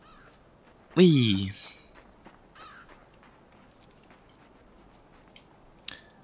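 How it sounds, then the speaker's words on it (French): A large crow gives one loud, close caw, followed by quiet background and a brief word from a person. "Un corbeau. Mais il est mastoc."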